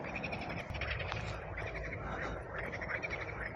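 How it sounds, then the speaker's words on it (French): A dense chorus of frogs and toads croaking together, with overlapping calls and trills forming a loud, continuous wall of sound that holds steady throughout. "Alors à entendre toutes ces grenouilles, crapauds et compagnie"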